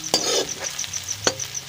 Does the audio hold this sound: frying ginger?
yes